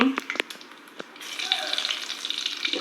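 Tempering seeds drop into hot oil for a spicy gongura curry and begin spluttering, a few sharp pops up front giving way to a steady, close crackling sizzle.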